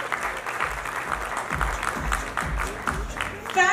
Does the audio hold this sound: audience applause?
yes